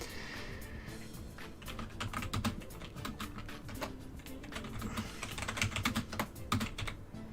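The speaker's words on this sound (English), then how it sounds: "I don't know why I'm typing." Rapid typing on a computer keyboard, with close, quiet, irregular key clatter running steadily throughout and no talking.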